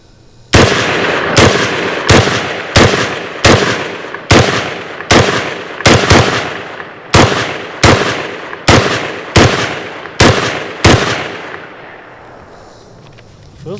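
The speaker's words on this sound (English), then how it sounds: "we'll put some rounds down" Rifle fired during a gear test with a BCM-handled carbine and Romeo red-dot sight, about fourteen sharp, loud shots in a steady rhythm with ringing echoes, then a fading decay after the last round.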